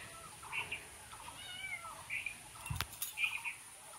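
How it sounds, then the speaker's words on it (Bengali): A small kitten gives three short, high meows, spaced a second or more apart. The meows are faint and stand alone against a quiet background. "এখানে বিড়ালের বাচ্চার আওয়াজ পাওয়া যাচ্ছে"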